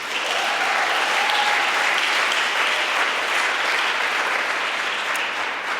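A conference audience at a European youth prize ceremony in Aachen claps in a sustained, even burst of applause that holds at full strength throughout without a break.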